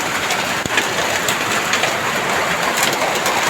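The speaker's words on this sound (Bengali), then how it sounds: "ঘরের ভিতরে এরকম প্রচন্ড শিলাবৃষ্টি" A heavy hailstorm is heard from indoors as a dense, constant rattling roar on the roof, with a sharp single knock near the start.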